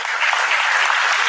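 An audience breaks into steady, dense applause, a loud continuous wash of clapping hands with no pause.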